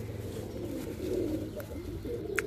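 Soft, low pigeon coos repeat over a steady murmur, with a faint chirp near the end.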